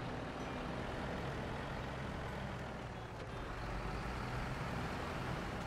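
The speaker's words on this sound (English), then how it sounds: "the International Paystar is a real good truck" A virtual International Paystar truck engine in the SnowRunner video game runs with a steady low diesel drone, continuous and fairly faint, with a brief hiss partway through.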